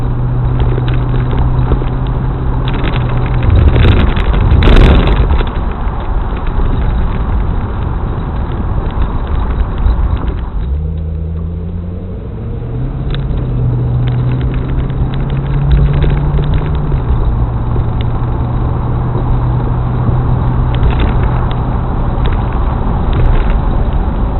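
A C4 Corvette cruising with the top down, loud steady wind buffeting and road roar filling the whole stretch, with engine drone and a brief gear or speed change midway, no talking.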